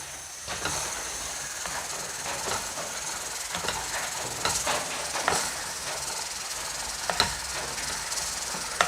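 Garam masala, coriander powder and chilli powder for rajma stirred in a pan over a low flame: a steady soft sizzling hiss broken by scattered light scrapes and clicks, with no talking.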